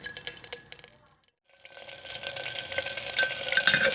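Meat hits hot oil in a pan for matka karahi: after a few clatters and a brief silence, a loud, steady frying sizzle builds up and keeps crackling close by.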